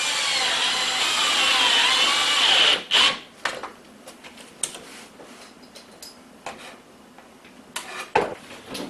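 A power driver runs a 1-inch drywall screw into a countertop form, a steady whirring drive for a few seconds, followed by clattering taps and handling knocks.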